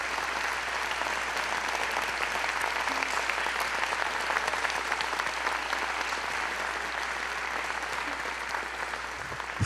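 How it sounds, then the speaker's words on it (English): Sustained, even applause from a large audience at an awards ceremony, dense clapping that continues without a break from start to finish. "I want to ask every student and educator here tonight to stand up and give these great people a round of"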